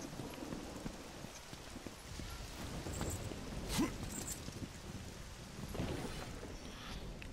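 Rain with rolling thunder in God of War 3 Remastered: a soft, constant downpour hiss with deep rumbles swelling briefly now and then, fairly quiet overall and with no talking.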